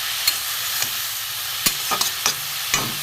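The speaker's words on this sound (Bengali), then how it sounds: "একটু নেড়ে নিই।" Bottle gourd with salt and turmeric being stirred in a pan, a soft constant hiss of frying under half a dozen brief spatula knocks and scrapes, near and unaccompanied by speech.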